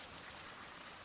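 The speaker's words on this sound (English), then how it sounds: "So it's still raining." Rain falling in a survival video game, a steady, soft hiss of raindrops on surfaces throughout, faint and continuous with no other sounds.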